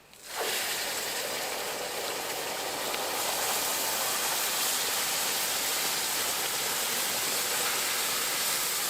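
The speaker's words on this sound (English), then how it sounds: "Now you're going to add your hot water." Hot water from a kettle pours into toasted rice in a large pot for Mexican rice, a steady loud hiss and sizzle that starts abruptly and continues without pause.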